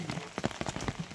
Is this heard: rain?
yes